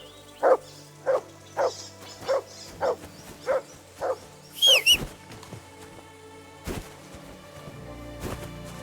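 Mutt the dog in Kingdom Come: Deliverance 2 gives a run of about eight evenly spaced, close barks, followed by a brief yelping whine, then quieter scattered noises.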